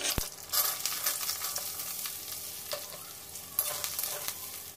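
Potatoes sizzle steadily in hot oil with cumin, with a loud crackling burst as they go into the pan and occasional stirring scrapes.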